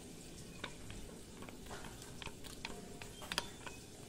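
Figs being mixed by hand with ground spices, sugar, chili powder, salt and turmeric, giving soft, quiet scraping and stirring sounds with a few brief clicks, close and faint, with no talking.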